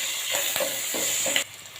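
Cumin, mustard seeds, peanuts and onion tempering in hot oil, giving a continuous crackling sizzle with a few soft stirring scrapes, close and moderately loud, no voices.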